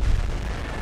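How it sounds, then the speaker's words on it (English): Explosions in the motorbike game Trials Fusion, a brief low booming burst that opens loud and fades into a dull rumble. "Oh, yeah, things are exploding."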